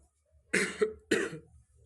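Two sharp, harsh coughs close by, one after the other, in an otherwise quiet room.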